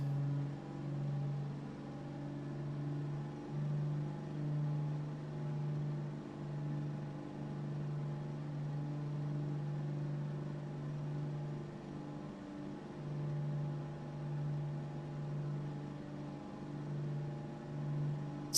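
Twin engines of a Carenado B55 Baron in Microsoft Flight Simulator 2024 drone steadily with a low humming tone while throttling up on a paved runway, continuous and fairly faint, with no talk.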